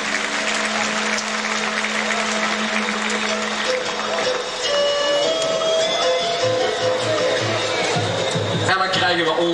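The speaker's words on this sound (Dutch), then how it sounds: "Geef ze een warm applaus" Warm applause from a circus audience in 1991 fills the whole stretch, steady clapping mixed with band music and crowd noise underneath.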